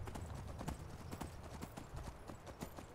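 Horse hooves clop in a quick, steady rhythm during a ride in Skyrim, faint and close, a continuous run of hoofbeats with nothing else prominent.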